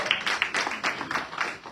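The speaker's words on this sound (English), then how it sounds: "Let's give a round of applause" Audience applause for event organizers at a youth empowerment forum, a steady burst of many hands clapping together in a room, fairly loud and even throughout, with no talk over it.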